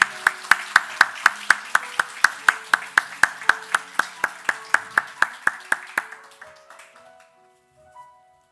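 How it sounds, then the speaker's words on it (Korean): A steady round of hand claps from a church congregation during an Easter Sunday service rings out in an even rhythm, then thins and fades away into quiet with a faint tone at the end. "고난의 십자가 지시고 섬기시는 귀한 손길에 축복의 박수 나눕니다"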